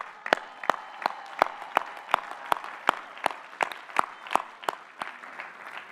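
Sparse, evenly spaced hand claps ring out at a graduate commencement ceremony for master's degree recipients: a few sharp, distinct claps repeating steadily.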